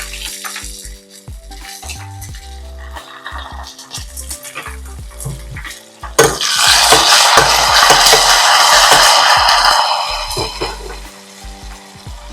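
Curry leaves and dried red chillies hit hot oil for a tempering, a loud burst of crackling sizzle that swells midway and settles back down, with utensils clinking before it.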